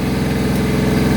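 A backhoe tractor's diesel engine idles loud and close with a steady low throbbing rumble and mechanical vibration throughout, heard alone.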